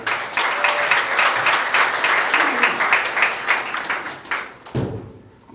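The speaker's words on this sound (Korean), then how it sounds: "뜨거운 환영의 박수로 맞아주시기 바랍니다." A rally crowd at a joint campaign speech meeting in Wonju applauds to welcome a candidate, loud rhythmic clapping that fades near the end as a voice begins.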